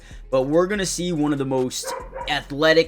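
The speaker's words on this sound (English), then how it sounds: "If you hear my dog barking, don't mind it." A dog barks a few times, close and sharp, under a man's steady speech, with short yips breaking in between his words.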